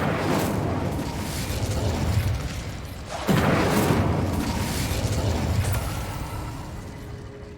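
Fire spell cast in the Hogwarts Legacy video game: a dense roaring rush with a sharp burst partway through, loud and sustained like a flaming blast, with no talk over it.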